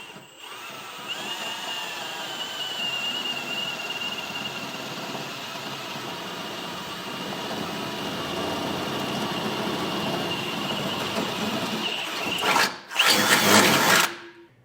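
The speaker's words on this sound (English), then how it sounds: "We're going to drill through that first layer of steel" A 1/2 inch bit drills through the steel of a Blue Ox base plate kit on a 2024 Jeep Grand Cherokee L. The close power-drill whine runs steadily with a high squeal, then ends in a short louder burst near the end.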